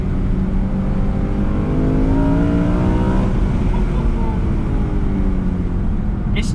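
A BMW E92 M3 engine pulls hard in first gear, its loud, raspy tone climbing steadily in pitch over several seconds, heard from inside the car with a constant roar throughout.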